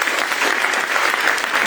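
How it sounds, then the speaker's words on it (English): Audience applause at a community report presentation, a dense, steady burst of clapping filling the whole moment with no talk over it. "I think that deserves another round of applause."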